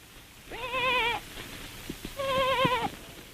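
A lamb cries out in an audio drama with two long, wavering bleats separated by a short pause, close and clear, with a few soft thumps between them.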